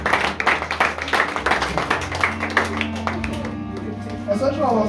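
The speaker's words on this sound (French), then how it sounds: "Acclamons pour les femmes." A church congregation applauds for the women during a sermon, a dense crowd of hand claps loud and close at first, then thinning as sustained tones and voices rise beneath it.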